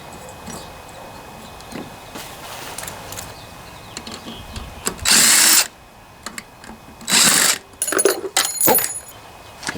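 Power tool spinning out bolts on a Briggs & Stratton 7.25 163cc engine from a Toro mower during a head gasket job, a few short bursts of whirring with small metallic clinks between them, close by and with no talk.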